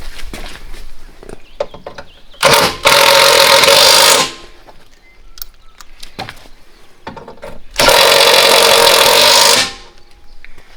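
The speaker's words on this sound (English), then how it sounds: "Then we can tighten up them top ones." Two loud bursts from a power tool tightening nuts on a Polaris diesel vehicle's steering, each lasting about two seconds with a pause between, set close against a quiet workshop background.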